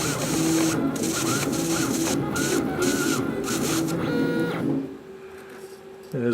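Laser cutter stepper motors driving the head along a repeated cutting path with the air assist off, a busy close whirring with rising and falling tonal whines for about five seconds before dropping to a quiet hum.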